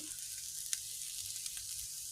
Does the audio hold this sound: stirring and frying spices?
yes